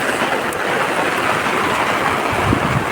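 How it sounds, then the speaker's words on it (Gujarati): Heavy rain pouring outdoors during a strong downpour, a loud, close, unbroken hiss of water that stays dense and steady throughout, with no voices. "આવો પડે વરસાદ જો,"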